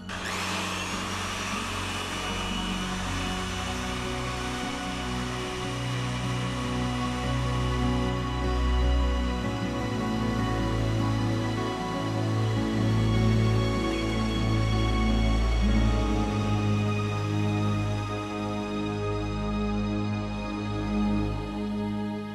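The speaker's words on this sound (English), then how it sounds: "A blower using ordinary 220 volt current fills the tube with air." A 220-volt electric blower drones steadily and loudly, pushing air into a flood protection tube as it inflates, with a constant whine and a slight shift in pitch partway through.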